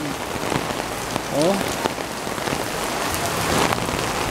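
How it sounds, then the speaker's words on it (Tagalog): Heavy rain pours down in a constant loud hiss and patter on surfaces, with a brief exclamation from a person over it. "Kaya talagang malakas ang ulan ngayon."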